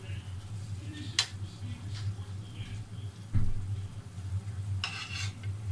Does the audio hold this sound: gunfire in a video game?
no